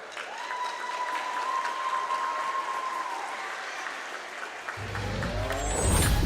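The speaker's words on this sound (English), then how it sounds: "Please join me in giving these honorable candidates one round of applause." A crowd at a girls' high school basketball game claps steadily for several seconds, a continuous wash of applause that swells slightly toward the end.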